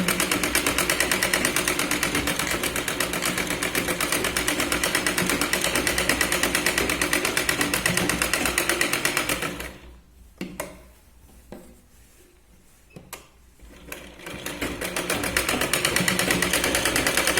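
Sewing machine stitching a katori blouse runs in a steady, loud mechanical whir, cuts out around the ten-second mark for a few quiet seconds with small clicks, then starts up again.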